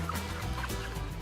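Chickens clucking inside a large 60-by-500-foot poultry house holding 40,000 birds, a dense, continuous chorus of many birds at once, loud and close.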